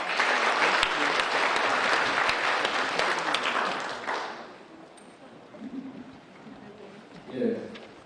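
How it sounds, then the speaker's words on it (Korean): Audience applause greeting a speaker at a Korean ceremonial event, a dense burst of clapping for about four seconds that fades out, followed by quieter room sounds and a brief voice. "여러분 박수로 맞이해 주시기 바랍니다."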